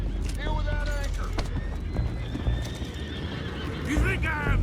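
In the video game Red Dead Redemption 2, horses whinny and neigh repeatedly with hooves clopping below, fairly close amid busy background, with people talking throughout.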